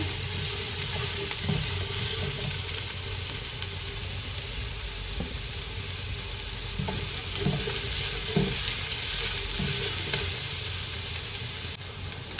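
Vegetables stir-fried in a pan, with a steady loud sizzle throughout and occasional scrapes and knocks of stirring, close up and with no voices.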